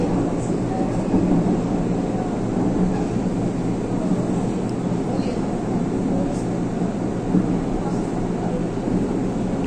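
Inside a running LRT light rail train, a steady loud rumble and rolling hum of wheels on track fills the car continuously, with faint voices underneath.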